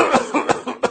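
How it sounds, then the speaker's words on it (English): Three or four strong, sharp coughs typical of asthma, each preceded by a deep breath, coming in quick bouts close and loud. "The patient takes a relatively deep breath and gives 2 or 3 bouts of strong cough"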